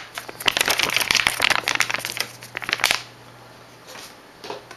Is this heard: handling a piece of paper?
yes